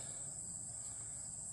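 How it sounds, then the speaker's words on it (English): Dog day cicadas, also called annual cicadas, give a steady, unbroken high-pitched buzz that holds evenly for the whole moment at a moderate distance, with no voices over it. "dog day cicadas, or annual cicada"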